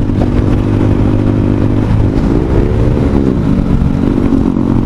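A motorcycle on a rough road during a bike tour in Purulia, with its engine droning loud and steady throughout and pitch swells as it revs up and eases off.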